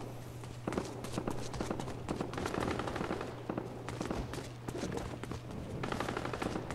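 Rapid bursts of automatic gunfire ring out during a Fortnite Battle Royale match, with repeated volleys and scattered single shots over steady background game noise, fairly loud and close.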